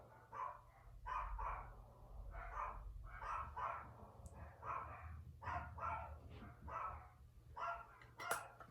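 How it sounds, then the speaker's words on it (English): A dog barks in a rapid series of loud, close woofs and yips, repeating in bursts over a low background hum, with no talking heard. "My dog is barking."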